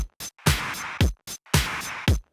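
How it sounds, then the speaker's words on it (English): Arturia FX Collection 3 speaker-edge mic simulation applied to a punchy drum loop, with repeated sharp kicks and snappy hits in a steady, slightly thin-toned rhythm, loud and alone. "a speaker edge simulates placing the mic at the edge of the speaker"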